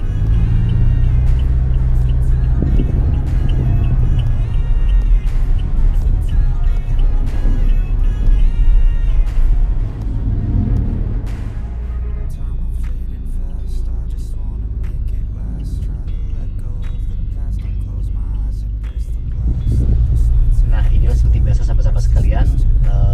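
Road traffic dominated by large coal trucks on the Cadas Pangeran route toward Bandung, a loud continuous engine rumble and roar that swells and eases as heavy vehicles pass close by.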